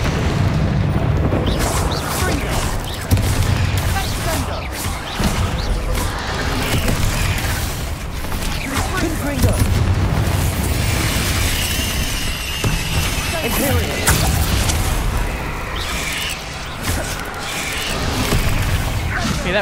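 Deep booming blasts from the fiery Confringo explosion spell in Hogwarts Legacy on PC, set against a dense, continuous wash of combat effects and rumble, with a voice talking throughout.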